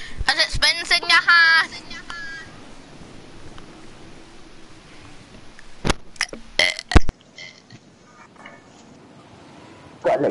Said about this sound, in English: I could hear myself burp on accident